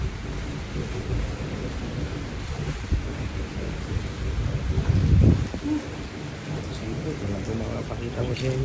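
Steady broadband rushing of water from heavy rain in Dubai, continuous and close, with a brief louder surge midway.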